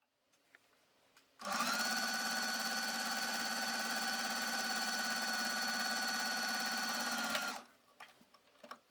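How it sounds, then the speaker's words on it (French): Domestic sewing machine stitching a seam over fabric gathers made with a gathering and pleating foot, one continuous loud steady whir for about six seconds, starting and stopping abruptly, quiet room before and after. "il faut quand même passer une couture dessus par-dessus pour bien tenir ces fronces"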